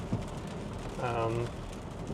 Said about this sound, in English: And right now the rain's coming down, not too heavy, just like a steady rain.